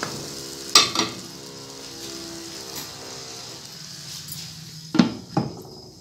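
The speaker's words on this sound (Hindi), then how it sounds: "अब ये देखिए आलू जो है बहुत अच्छे से जो मसाले के साथ भून रहे हैं" Potatoes frying with spices in a pan, a steady sizzle broken by two pairs of loud metallic clanks from a utensil against the pan near the start and end.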